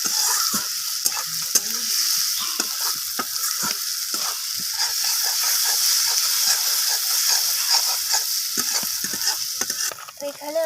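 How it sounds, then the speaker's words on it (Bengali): Fish curry with green chillies and coriander leaves sizzles loudly in a pan, with a continuous hiss and repeated close scraping strokes of a spatula stirring throughout; no voices. "কাঁচা লঙ্কা ধনিয়া পাতাটা দিয়ে এইভাবে আমি নাড়াচাড়া করে নেবো আবারও"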